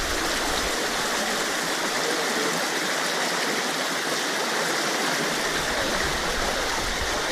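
A river rushes steadily along Wilson Creek at a slippery crossing, a continuous close hiss of flowing water with no breaks and no one speaking.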